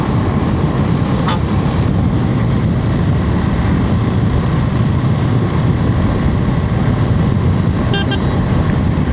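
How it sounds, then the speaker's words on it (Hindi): Strong wind roars against a motorcycle on the road, a constant loud buffeting rush with a brief whistle-like tone partway through. "क्या विंड है यार, बहुत विंड है"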